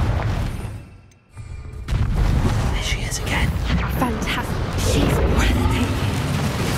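Confringo blasting-spell explosions in the video game Hogwarts Legacy: a deep boom swells after a brief dip, followed by sustained rumbling blasts and crackling debris across the mix, with game dialogue and effects layered throughout.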